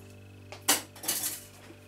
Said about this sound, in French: Et on va mélanger un peu.